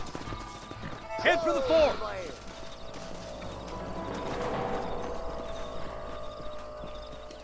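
Horses' hooves clip-clop in the Red Dead Redemption video game, with someone speaking over them early on before the trotting continues as a softer, steady patter.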